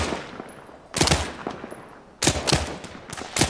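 Gunfire in the tactical shooter ArmA 3, played in an Invade & Annex match on Altis: loud sharp shots in clustered bursts separated by pauses, with a faint background hum between them.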